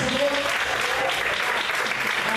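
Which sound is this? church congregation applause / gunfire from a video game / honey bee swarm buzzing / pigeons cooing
church congregation applause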